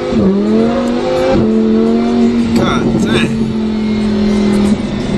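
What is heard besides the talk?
sports car engine revving while driving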